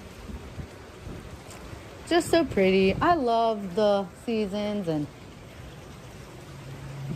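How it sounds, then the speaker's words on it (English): Steady rain falling outside on a spring day makes a soft, even hiss that runs through the whole stretch, while a person talks over it in the middle. "Wow, it's raining and it's so beautiful outside."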